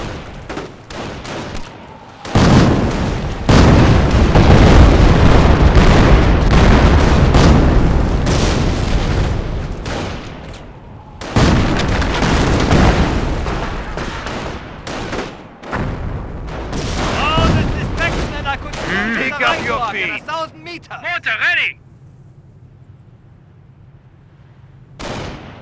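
Rocket battery artillery fire in Company of Heroes, a heavy barrage of booming launches and blasts in two long loud bursts that fade into a quieter rumble, with a voice talking at times.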